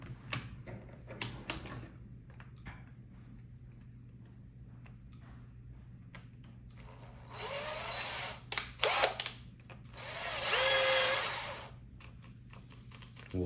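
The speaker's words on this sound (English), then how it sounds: "drill out the rest of the holes so that it fits" A cordless drill bores out holes in a joint. A few quiet clicks come first, then two bursts of whirring drilling, the second loud and lasting about two seconds.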